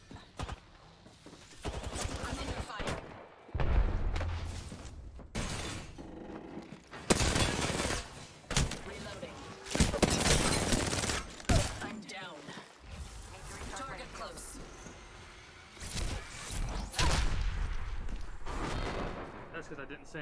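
Bursts of gunfire in Apex Legends crack out in rapid volleys and single shots, loud and close, spread across a tense firefight with a voice talking between the shots.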